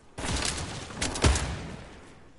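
Bursts of close, loud gunfire from a Fortnite Battle Royale match, with a sharp crack at the onset and a dense rattling volley lasting about two seconds before it trails off.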